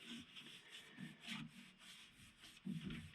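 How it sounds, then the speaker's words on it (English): A Scotch-Brite pad rubs and sands across a painted baseball bat to distress the finish, giving a steady scratchy scrubbing in repeated strokes, fairly quiet and close, with a heavier rub near the end. "we'll get a Scotch-Brite pad and kind of sand some of it down"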